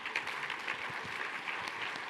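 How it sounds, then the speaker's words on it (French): A conference audience applauds volunteers in a soft, steady patter of clapping that carries on throughout at moderate distance. "on les applaudit parce que c'est pas évident"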